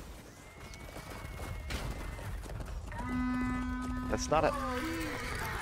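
A Chivalry 2 warhorse gives a loud, harmonic whinny that rises and wavers over several seconds, over battle noise as a player talks.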